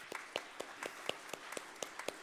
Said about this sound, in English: A big round of applause for everybody who helped out.